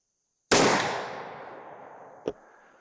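A single loud, close gunshot from a muzzleloader firing a bullet with Triple Se7en black powder at a 100-yard range, a sharp blast whose roar trails off slowly, followed by a faint distant crack.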